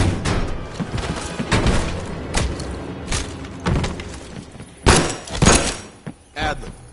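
A door being opened in the Call of Duty: Black Ops Cold War campaign, a couple of heavy thuds and a creaking bang standing out near the end against game ambience, with voices talking.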